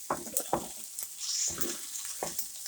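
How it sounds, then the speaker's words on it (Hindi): Chopped onions sauté in a pan for a vegetable lasagna, a close sizzle broken by several short stirring scrapes and crackles, with no voice. "हमारे ऑनियन भुन चुके हैं।"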